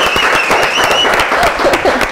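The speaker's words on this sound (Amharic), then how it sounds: "ይሄ ጭብጨባ ያስፈልገዋል።" Studio audience at a talk show bursting into loud, dense applause that holds steady throughout, with faint voices and a few whistles mixed into the clapping.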